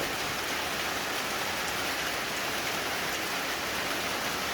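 Steady, dense rain pours down and patters on surfaces in an even, continuous hiss, close and unbroken, with no voices present, near a cattle pen behind a house.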